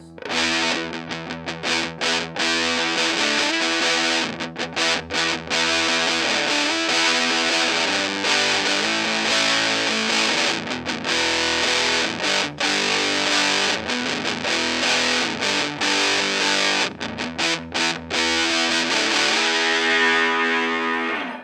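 A distorted Velvet Ant Fuzz pedal guitar, tone turned all the way down, plays chords and riffs with a thick, muffled, bass-light tone, steady and loud with brief gaps between strums.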